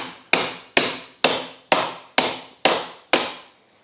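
1.3 kg hammer striking metal parts during an electric unicycle teardown: seven loud, sharp blows at a steady, even pace, each ringing briefly before the next, close and alone.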